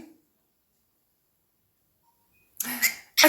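A pet cockatiel gives a couple of short, sharp sneezes near the end, close and fairly loud, after a long stretch of silence with a brief faint sound at the start.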